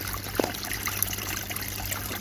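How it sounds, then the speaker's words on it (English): Water from a 50 watt solar-powered pond pump trickles steadily over a small rock waterfall, a continuous close splashing babble with no breaks. "plenty for this tiny little waterfall over the rock"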